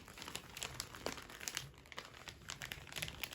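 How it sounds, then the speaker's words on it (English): Wrapping paper crinkles and rustles in a rapid series of small crackles as it is folded over at the bottom of a handmade gift bag, close and fairly quiet throughout. "what we do is fold a piece over at the bottom"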